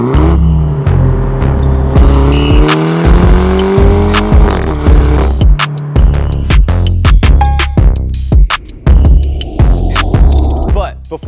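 A modified Mini Cooper Clubman rumbles loud and close, its engine droning and rising in pitch before breaking into choppy, pulsing revs and stutters, with sharp bursts and gaps toward the end.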